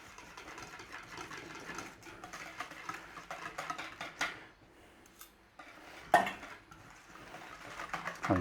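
Dry ranch dressing mix being stirred into homemade ranch dressing in a bowl, with repeated clinking and scraping of a utensil against the dish, fairly close, pausing briefly partway through.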